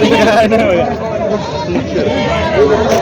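Goats bleat repeatedly amid a busy crowd at a large goat market in Vasmat, their calls mixing with loud chatter and people talking close by.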